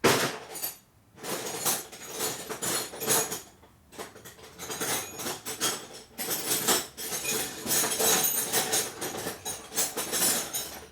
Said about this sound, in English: got 2 wrenches to tighten up a couple nuts